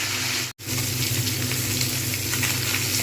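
A rohu fish head fries in hot oil for moong dal, making a continuous crackling sizzle that cuts out for an instant, then carries on evenly.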